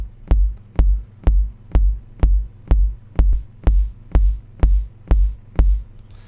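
Beat programmed on Native Instruments Maschine in MPC60 engine mode, bit-crushed, down-sampled and low-pass filtered: a steady run of punchy kick hits with crisp clicks on top, later joined by hissy hat-like hits, played alone.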